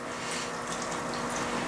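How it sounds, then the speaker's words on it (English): Olive oil and water poured into a bowl of bread dough mix, a steady close hiss of running liquid lasting the whole brief moment, quiet with no talk. "And then we'll put our oil and water in."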